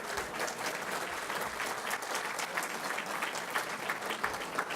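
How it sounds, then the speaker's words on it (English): Applause from a dinner audience at a Lincoln Day Dinner, answering the mention of the Illinois governor. Sustained, even clapping from a large room, with no voices standing out. "Yes, that's an applause line."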